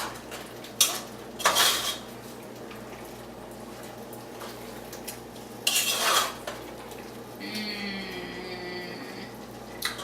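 Vegetables for a coconut curry tofu go into a cooking pot with two sharp clattering bursts of metal utensils against the pot, then a short stretch of quieter scraping and stirring.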